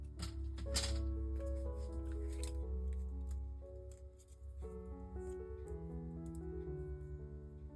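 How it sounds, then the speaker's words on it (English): A strip of paper is cut with scissors during card making, giving soft repeated snipping and crisp ticks close by under steady background music, with no talking. "I'm going to go ahead and cut another strip off."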